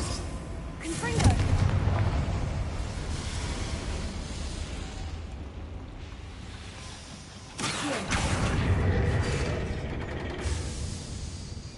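A Confringo fire spell in Hogwarts Legacy lands with heavy booming blasts, one early and another later, over a constant rumbling game soundscape, with some talk mixed in.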